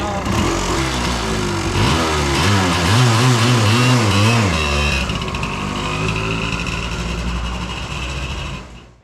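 1985 Yamaha Tri-Z 250 three-wheeler engine running close by, a loud two-stroke drone that rises and falls in pitch as it revs, then settles to a steadier hum before cutting off.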